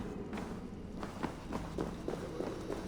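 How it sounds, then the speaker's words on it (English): Footsteps in Assassin's Creed Valhalla, a steady series of soft, fairly quick steps on a hard surface over a low game ambience, moderately faint. "Footsteps."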